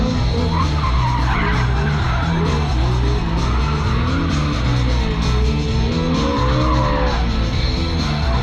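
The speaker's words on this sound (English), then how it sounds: "This thing can smoke the tyres hard." A race car at a Hyundai N and Toyota Gazoo Racing festival performs a hard burnout, tyres squealing and skidding continuously over a steady engine roar at close range.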